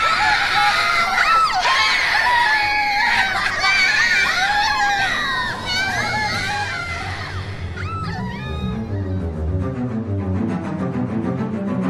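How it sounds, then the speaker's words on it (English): A crowd screams and shrieks in a loud, continuous mass of high, sweeping voices. Later the screaming thins out and gives way to a rhythmic, pulsing background. "Then the screaming began."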